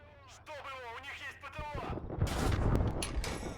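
In the World War II video game Gates of Hell, a voice talks briefly before a heavy mortar explosion lands with a loud, rumbling roar that carries to the end.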